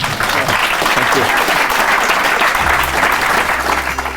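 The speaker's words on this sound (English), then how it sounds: "Give you a round of applause for Joel." An audience at a fireside chat talk in Birmingham applauds steadily, a dense, loud wash of clapping that carries on throughout, with a low rumble creeping in near the end.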